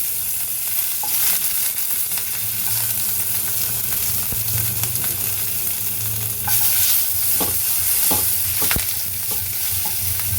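Ginger and garlic frying in oil in a pan for a cauliflower and sweet potato kola gravy, a steady sizzle with spoon scrapes and stirring clatter, close and moderately loud.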